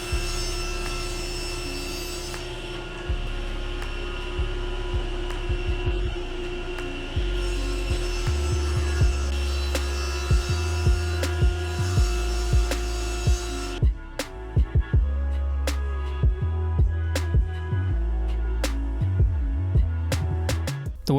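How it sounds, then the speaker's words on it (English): A table saw cuts through plywood desk legs to clean off glue squeeze-out, its motor humming steadily while the blade bites the wood in repeated passes, with a loud close-up whine that drops off and starts up again. "the easiest way to clean that up was just running them back through the table saw"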